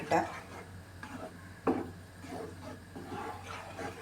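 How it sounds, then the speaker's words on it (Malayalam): A spoon scrapes and knocks around a pot of chana dal payasam in slow, uneven strokes, with a couple of sharper clinks, fairly close. "ഇത് നന്നായിട്ടൊന്ന് മിക്സ് ചെയ്ത് കൊടുക്കാം"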